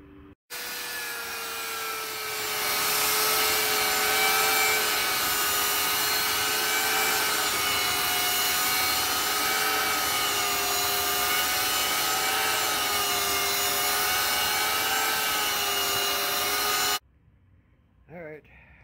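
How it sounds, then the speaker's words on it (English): Power sander working a live edge wood bench seat, a loud continuous whirring drone with a steady hum and rasping texture that runs without pause before stopping abruptly. "time to start doing some sanding."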